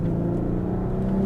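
A Volkswagen Passat R36 engine revs at full throttle, a loud close rising drone with a rich harmonic growl held steadily for a short burst.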